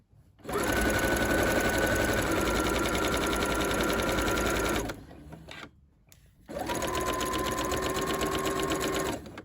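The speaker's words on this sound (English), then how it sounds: "So I'll start my stay stitching right there and go up to my shoulder." A sewing machine runs steadily while stay stitching a coat facing up toward the shoulder for a Simplicity 8797 coat. It makes a loud, continuous mechanical whir, stops briefly, then starts again with a second long run.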